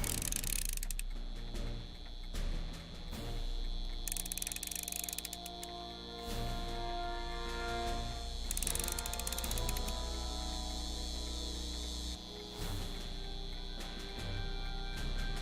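Cranking a mechanism in Back to the Future: The Game, a loud, sustained ratcheting and gear-grinding with a steady hum and repeated clanking bursts over fifteen seconds, no voices.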